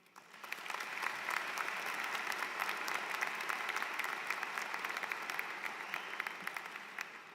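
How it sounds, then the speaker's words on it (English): Audience applause at a graduation ceremony for online undergraduate business and STEM programs, a steady sustained wash of many hands clapping that swells in and holds evenly throughout without voices over it. "everyone here deserves a round of applause for their contribution in our success today"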